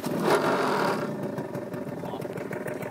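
A Gilera Runner SP30 scooter engine idles low and a little uneven, with its carburettor jet slightly mistuned, giving a steady close putter that is louder for the first second and then settles.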